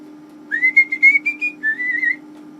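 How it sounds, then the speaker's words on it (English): A person whistles on the in-breath, a short, clear tune of a few sustained notes, close and alone against a faint steady hum. "whistling on the in-breath causes less air noise"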